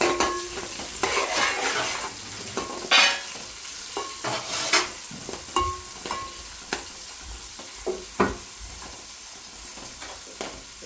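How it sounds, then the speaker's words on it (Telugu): Onions soften in a hot pan with a soft sizzle beneath repeated stirring, as a spoon scrapes and knocks against the pan in irregular bursts close by. "ఇప్పుడైతే ఆనియన్స్ మగ్గుతున్నాయి"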